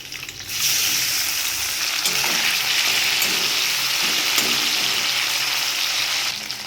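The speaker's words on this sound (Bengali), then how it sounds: "আমি মাছগুলো হালকা করে ভেজে উঠিয়ে নেব।" Tengra fish fry in hot mustard oil in a wok. A loud, close, steady sizzle starts abruptly after a quiet moment, with faint spatula sounds under it, and eases off at the end.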